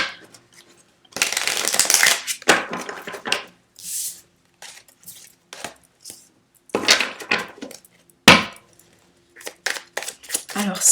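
Tarot cards being shuffled for a reading, in bursts of riffling and slapping, with pauses and light handling between them.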